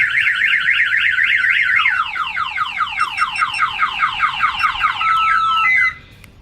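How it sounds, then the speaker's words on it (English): Close, loud 1992 Chevy Silverado car alarm cycling through its tones, starting with a rapid warble and then switching to quick repeated sweeping chirps before stopping abruptly. "when the alarm fires off, the car won't start"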